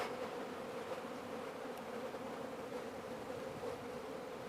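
Honeybees crowd a hive that is about to swarm, giving off a dense, steady buzzing drone that stays unbroken and fairly close throughout.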